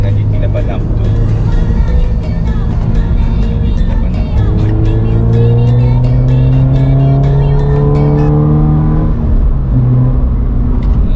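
A Toyota GT86 being driven hard on a road near Ulu Yam, engine revving up through the gears in loud rising sweeps, while someone speaks over it throughout.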